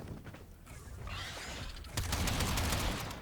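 Warframe's Akbronco Prime twin scatterguns fire in a loud, crackling burst of pellet blasts that follows a quieter mechanical rustle and holds for about a second before fading.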